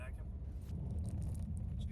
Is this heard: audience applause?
no